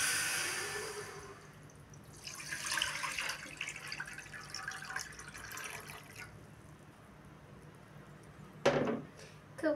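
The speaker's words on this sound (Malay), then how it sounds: "masukkan air ke dalam periuk" Water flows into a cooking pot for agar-agar santan, a soft running pour with trickles and drips that fades, followed by a sharp clink near the end.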